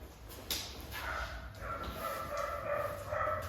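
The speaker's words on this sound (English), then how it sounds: "Sorry if you hear my dogs barking." Dogs bark and whine indoors in the background, a few short yelps and muffled barks that stay fairly faint and come in brief bursts.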